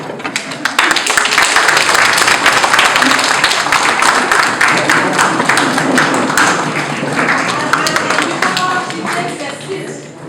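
A crowd claps steadily and densely for about ten seconds at a political party meeting, loud and continuous, with no words spoken over it and a slight fade at the end.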